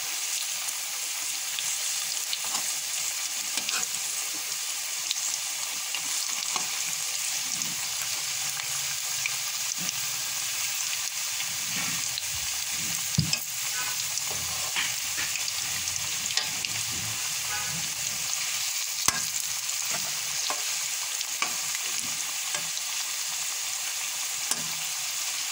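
Aloo piyaz pakoras sizzle steadily in hot oil on a stove while being turned over, with a constant close frying hiss and occasional scrapes and clinks from the utensil and no voices.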